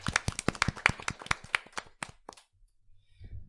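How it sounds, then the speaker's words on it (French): Applause for two students, a small group's crisp clapping at close range that thins out and stops after a couple of seconds, followed by quiet room noise. "donc on va aussi les applaudir parce qu'il n'y a pas de raison."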